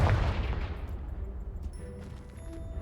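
A Confringo explosive spell in a wizard video game blasts through a blocked stairwell, a loud booming impact at the start that decays into rumbling debris and fades to quieter ambience.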